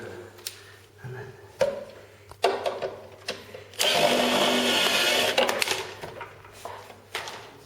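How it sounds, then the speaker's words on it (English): Repeated bursts of a power driver tightening the eight screws on a Cosmos Three sleeper bed during assembly, short whirs building to a sustained loud grinding run, with clanks between them. "This one, there's 8 bolts, 8 screws, sorry. Just tighten them all up."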